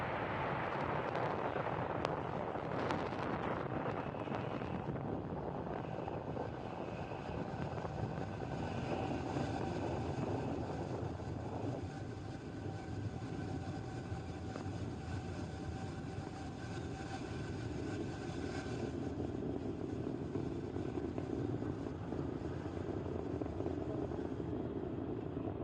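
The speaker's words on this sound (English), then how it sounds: "lift off of Falcon 9" A Falcon 9 rocket lifts off and climbs, carrying Blue Walker 3 and Starlink satellites. A loud, continuous broadband roar rumbles steadily throughout with no pauses and no talking.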